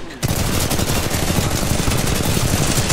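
Sustained rapid automatic gunfire in a video game, a loud, dense rattle of shots that keeps going without a break for about three seconds after a brief quiet start.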